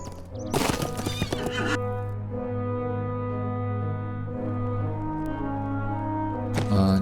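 A horse in the video game LOTRO gives a loud, close whinny lasting about a second, followed by a steady droning ambient hum. A short burst of hoof clatter comes near the end.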